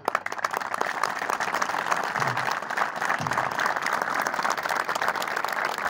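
A crowd gathered for a Malvinas veterans' plaza inauguration claps in warm, continuous applause, dense and even throughout, heard up close without speech on top.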